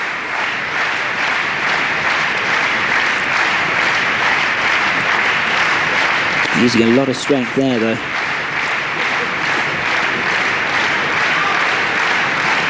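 Sustained applause from a German crowd clapping for a climber at the 1991 UIAA World Climbing Championships in Frankfurt fills the clip, with a commentator talking briefly over it midway.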